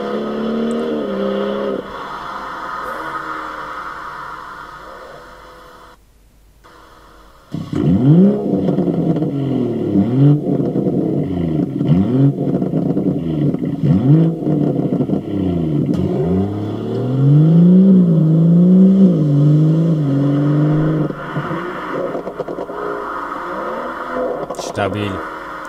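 A BMW M140i with a Milltek non-resonated exhaust revs and accelerates, its engine note rising and falling in repeated sweeps, loud and fairly close, with a person talking over much of it.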